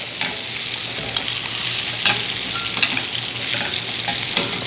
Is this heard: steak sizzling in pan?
yes